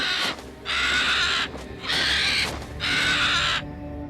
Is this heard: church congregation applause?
no